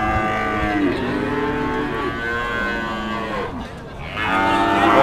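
Cattle low and moo repeatedly at a busy Indonesian cattle market selling breeding heifer calves, the drawn-out bellows close and loud over a steady crowd murmur, with a short dip near the end before another call.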